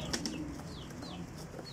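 Breeder pigeons cooing softly, with a few faint calls and light fluttering in the background, heard quietly and up close with no talking.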